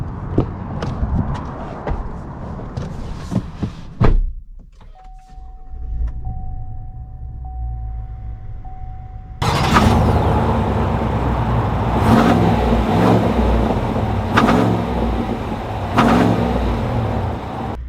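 A 2020 Chevy Silverado 1500 RST pickup with a 6.2L V8 pulls out and drives, its engine humming and revving under a shifting mix of cabin and road noise, with brief quieter stretches and thumps, with no talk.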